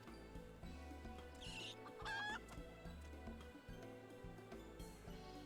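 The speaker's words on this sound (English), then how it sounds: "Your other chickens are resting easy now" Chickens cluck and fuss in Final Fantasy XIV during the Hatching-tide event, with several short hen calls and a brief squawk over a steady bed of game music.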